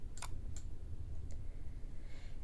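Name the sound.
mouse clicking in Jupyter Notebook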